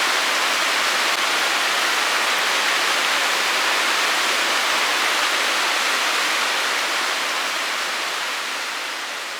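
Rushing water of Toquerville Falls, a desert waterfall in Utah, roars as a steady, dense broadband hiss, loud and close, fading slightly toward the end with no voices.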